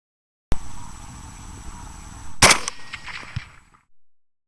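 Gunshots fired at a feral hog outdoors: a sharp crack, then a louder, longer blast about two seconds later, with the report ringing out before fading to quiet.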